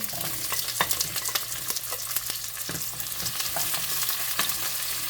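Garlic and onion sizzle in ghee butter in a pan, a loud close hiss under busy stirring scrapes and clicks, steady throughout and without speech.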